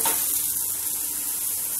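Steady, even sizzle of oil on a beetroot paratha stuffed with sattu as it cooks on a pan, close and continuous with a faint hum beneath, no voices.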